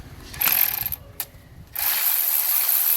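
Ratchet removing a bracket bolt on a 2007-2011 Toyota Camry 2.4 engine, a close burst of clicking followed by a sharp tap and then a steady whirring spin-off.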